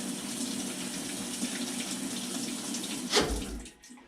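A washing machine draws in water as it fills, a steady rushing hiss of running water that holds for several seconds, then swells briefly with a low gurgling surge before tapering off.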